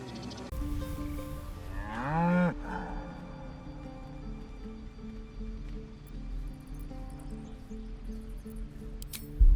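A cow moos once in Baldur's Gate 3, a short rising low call near the start, with no other creature noises after it and only game ambience beneath.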